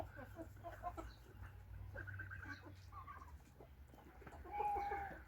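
Chickens cluck and murmur steadily nearby, with a few sharper calls rising toward the end over a low background hum.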